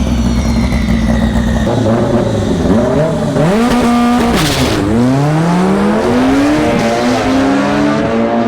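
A car pulls a handbrake skid at a private Santa Pod drag strip test day. Its engine revs loudly and rises and falls in pitch while the tyres squeal steadily close by, with no talk.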